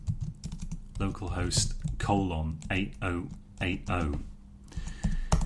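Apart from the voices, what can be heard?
typing a command on a computer keyboard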